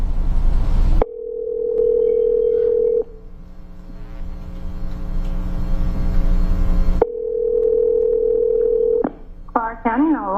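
A phone places an emergency call to 911, with long steady ringback tones broken by a crackly line pause, then a brief burst of dialing beeps near the end.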